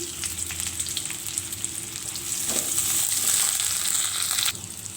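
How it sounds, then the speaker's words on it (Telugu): Chopped onions and curry leaves frying in oil for a leafy dal curry, a steady close sizzle that swells louder midway with stirring scrapes. "అలాగే మనం కట్ చేసి పెట్టుకున్న ఆనియన్స్ కరివేపాకు వేసి వేయించుకోవాలి"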